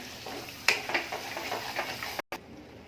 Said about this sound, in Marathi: एक चमचा मिरची पावडर आणि एक चमच गरम मसाला ते छान सगळं ग्रेव्हीमध्ये मिक्स करून घेणार आहे